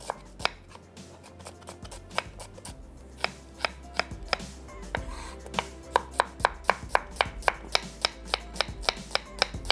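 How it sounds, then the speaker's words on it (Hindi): A knife chops finely through a small onion on a cutting board, a steady run of sharp, close taps that speed into a quick regular rhythm, with no talking. "इसको बारीक स्लाइस कर लेंगे।"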